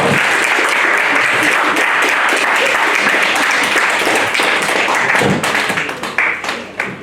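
Loud, sustained crowd applause and clapping at a kickboxing gala weigh-in ceremony, filling the space evenly before tapering slightly near the end.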